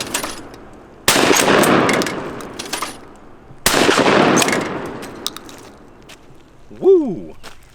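Three loud tactical shotgun blasts from a low-priced pump-action, spaced a couple of seconds apart with mechanical clacks between, ending in a brief voice exclamation.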